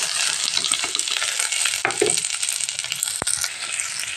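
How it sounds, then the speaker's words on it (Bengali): Onion frying in oil in a home kitchen, a steady bright sizzle with small clinks and scrapes from stirring running throughout, close and fairly loud, with no talk. "তেলে পেঁয়াজটা দিয়ে দেবো"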